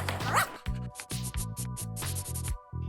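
A dog gives a short yip near the start, then music with a steady rhythmic beat carries on.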